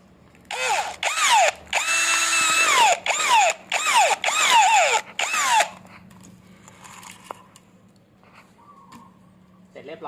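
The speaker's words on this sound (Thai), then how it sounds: "เจาะแบบนี้นะครับ แล้วก็จะเจาะด้านท้ายนะครับ" A power drill bores holes into a container for a DIY fuel-siphon hose fitting, whining loudly in about six short bursts separated by brief pauses before falling quiet.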